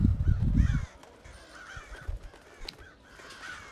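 Agitated crows cawing in the stealth video game Thief, several harsh repeated caws scattered across the scene after a brief low rumble at the start, moderately loud with no speech.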